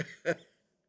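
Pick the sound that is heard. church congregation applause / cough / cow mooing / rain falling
cough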